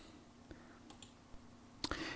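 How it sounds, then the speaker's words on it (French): A computer mouse clicks several times in quick succession, faint and close, as a Photoshop brush resource is opened on a desktop. "donc je clique dessus"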